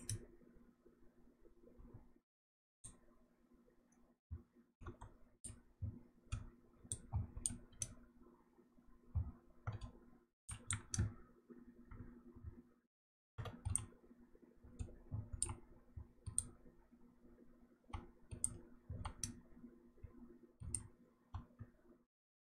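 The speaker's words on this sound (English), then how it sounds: "I hear the keyboard, mouse, voices of the characters a bit low" A computer keyboard and mouse click faintly in irregular bursts of rapid taps, separated by short silent gaps, over a low steady hum. The clicks are quiet and close, and there is no speech.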